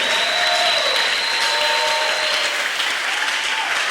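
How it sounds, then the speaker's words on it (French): A church congregation bursts into sustained, dense applause, a loud continuous wash of clapping from many hands with a few faint voices ringing through it. "Est-ce que les amis de Dieu peuvent applaudir?"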